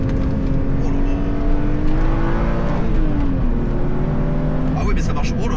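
A sports car engine in sport mode roars steadily under hard acceleration, its pitch climbing then dipping with a gear change, loud and close throughout.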